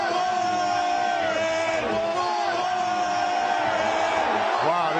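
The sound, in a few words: stadium crowd of Philadelphia Eagles fans cheering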